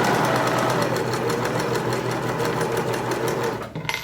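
A sewing machine stitching fast over fringe on kitchen linens, a loud, close, rapid mechanical chatter that runs steadily and then stops with a few clicks at the end.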